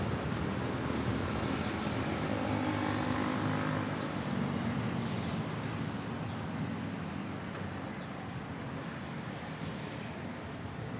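An AirAsia Malaysia Airbus A321 takes off from runway 06 at Manila's NAIA airport, a continuous broad jet roar that holds steady and eases slightly toward the end.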